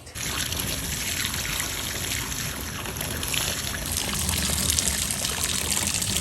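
Bleach being squeezed out of rinsed hair into a bucket, a steady close trickle and dribble of liquid running throughout with no talk.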